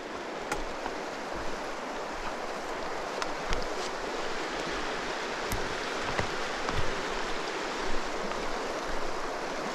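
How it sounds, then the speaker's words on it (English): River rapids rush in a steady broadband wash along a wilderness stream in Algonquin, with a few brief knocks and splashes over the continuous flowing water and no voices. "Saw a nice little set of rapids."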